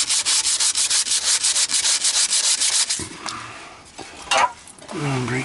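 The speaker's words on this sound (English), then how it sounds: "Give it a little buff." A rag buffing rust preventative onto the metal of a 1993 GMC Sonoma work truck makes quick, rhythmic rubbing strokes for about three seconds, then slower scattered scuffs, with a brief voice near the end.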